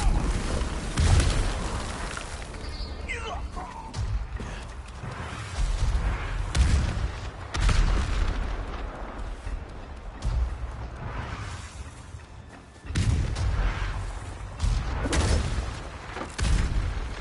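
Gunfire and explosions in the Ghost of Tsushima video game, heavy booms and blasts recurring in irregular waves over a dense, rumbling battle ambience, loud and close, with brief calmer gaps between barrages.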